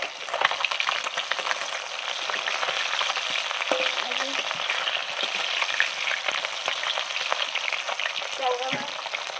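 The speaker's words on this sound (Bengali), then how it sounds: "আর এই যে এটা হচ্ছে বাম মাছ, চলো একটু নাড়া যাক" Bam eel from the Padma river frying in a pan, a steady close sizzle with scattered scrapes and taps of stirring throughout.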